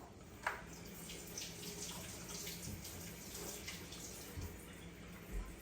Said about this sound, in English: now we're putting them over into the cold water bath.